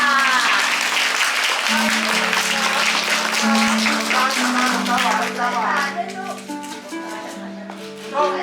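Guests applaud at a Chinese-style engagement ceremony at the Siam Kempinski, a steady wash of many hands clapping over sustained background music, gradually thinning toward the end.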